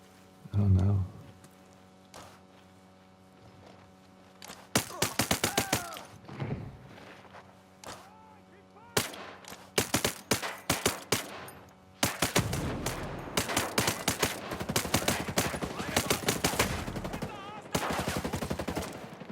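Video game gunfire from Ghost Recon Breakpoint: sharp single shots, then dense bursts of automatic fire grow heavier toward the end. Voices speak between and over the shooting.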